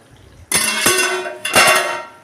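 A lid being handled on a cooking pot while a ridge gourd, potato and prawn curry cooks, with two close metallic clatters of the lid and a sustained sizzling hiss between them.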